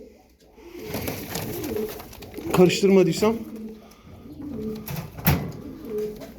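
Pigeons coo in low, throaty bursts close by, while someone speaks briefly over them in Turkish and a few sharp knocks occur.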